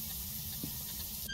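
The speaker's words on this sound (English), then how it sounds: "you can turn the shower on now" Shower turned on in a Phasmophobia bathroom: a steady, broad hiss of spraying water runs throughout, fairly loud and unbroken, with no voices.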